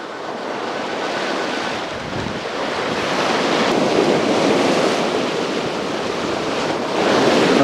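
Sea waves breaking steadily on the shore, a continuous loud roar of surf with some wind buffeting the microphone, no voices.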